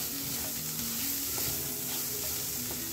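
Peas sizzle and fry steadily in a pan, with occasional stirring clatter and a continuous crackling hiss.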